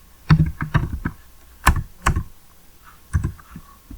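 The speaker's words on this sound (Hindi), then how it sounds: "कीबोर्ड" Keystrokes on a computer keyboard during data entry in Tally ERP 9 accounting software, a few close clicks in small bursts with pauses between.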